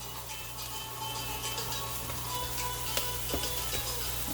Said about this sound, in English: next we're gonna go ahead and start to cooking the cauliflower rice